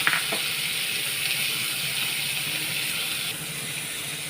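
Onions sizzling in hot oil with mustard seeds and cumin, a steady close hiss with faint crackles throughout, no talking.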